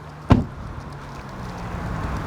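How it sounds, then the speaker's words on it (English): A single solid thud of a 2021 Range Rover SVR door shutting, followed by a quiet, steady background hum. "the noise of the closing door"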